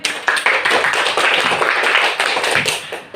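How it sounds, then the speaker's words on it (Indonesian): Schoolchildren in an Indonesian elementary classroom clapping together for a classmate, a burst of brisk, uneven hand claps, close and loud, lasting a few seconds and trailing off at the end, with no talking. "Tepuk tangan untuk Sri."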